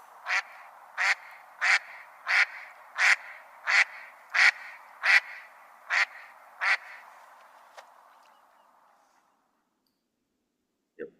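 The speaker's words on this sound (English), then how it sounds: "Your prototypical hen mallard there." A hen mallard duck gives a descending series of about ten loud, evenly spaced quacks that grow slightly louder and then fade, followed by silence and one faint final note.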